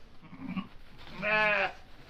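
A registered Katahdin sheep gives one clear, quavering bleat at lambing time on a small farm, preceded by softer low murmurs in a quiet pen.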